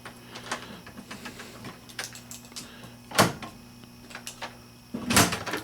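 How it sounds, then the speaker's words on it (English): A 1987 Gottlieb Victory pinball machine's coin door being shut, heard as a few soft clunks and a louder latch thump near the end over a steady machine hum, with no talk. "Close the door."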